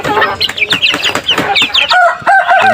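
One-month-old chicks in a backyard cluck and peep busily while eating wet feed, a dense close chorus of short calls over a few seconds.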